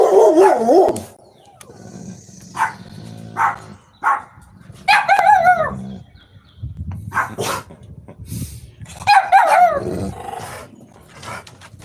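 A dog barks repeatedly in uneven bursts, some yappy and high, close by, with someone talking between and over the barks.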